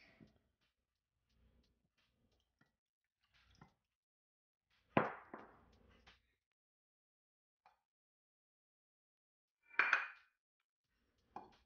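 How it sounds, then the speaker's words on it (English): Ingredients for homemade pancakes are added to a bowl of mix, giving a few scattered clinks and knocks of utensils against the bowl, with a louder clatter midway and another near the end, close and quiet otherwise. "Now we're going to add the ingredients to the mix."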